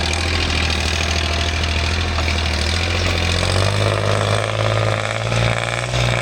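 A 2010 Kubota L3608 diesel tractor engine runs steadily up close, a loud continuous rumbling idle with a slight rise in pitch toward the end and no talking.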